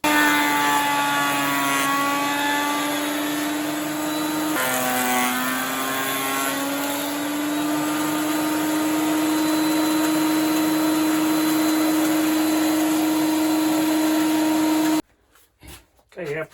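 Thickness planer passing wood blocks held on a planer sled, a loud continuous whining drone with a steady pitch that dips briefly midway, then cuts off near the end, leaving a few faint knocks.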